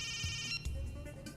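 A telephone ringtone chirps in a dubbed South Indian action film scene, an electronic ringing tone sounding clearly and alone with no talk over it.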